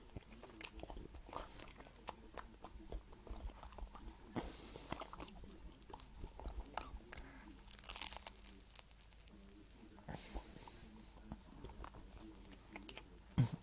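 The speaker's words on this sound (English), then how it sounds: "eating this toast with Marmite on it feels exactly the same" Close, quiet crunching and chewing of toast spread with Marmite, irregular bites and crackly crumbs spread over several seconds with small mouth noises between.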